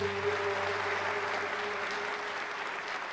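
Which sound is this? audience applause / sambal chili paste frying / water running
audience applause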